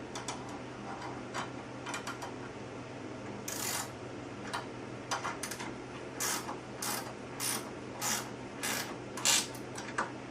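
Ratchet wrench clicking repeatedly while tightening a bolt with a washer on a Ryker Pilates reformer during assembly, close and fairly loud, in short bursts of rapid clicks over a low steady hum.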